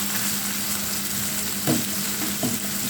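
Ginger-garlic paste fries with onions in a pan as part of a tomato boal fish curry, giving a steady close sizzle with a couple of brief scraping stirs.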